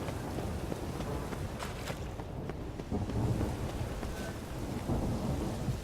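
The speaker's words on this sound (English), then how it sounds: "It just rains and rains." A steady downpour of rain in The Witcher 3 video game, with a low rumble of thunder and wind running throughout at an even, moderately loud level.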